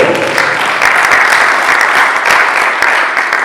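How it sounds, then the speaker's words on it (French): An audience at an entrepreneurs' business event applauds loudly and steadily, a dense sustained clapping that fills the whole moment with no talk over it. "Est-ce qu'on peut encore acclamer pour M. Victor?"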